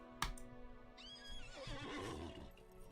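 A horse neighs in the Lord of the Rings Online video game: one sharp click, then a rising, wavering whinny at moderate loudness, alone with no talk.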